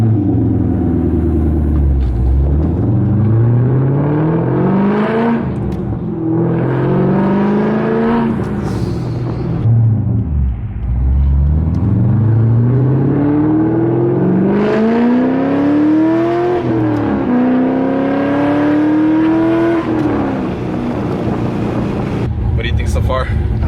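C5 Corvette fitted with a Texas Speed cam kit driving, its engine note rising and falling through repeated gear pulls with a loud, lumpy rumble inside the cabin, while people talk over it.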